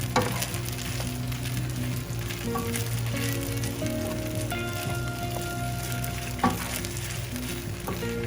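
Idli pieces frying in ghee in a pan give a steady, close sizzle with light stirring clatter throughout, no talking.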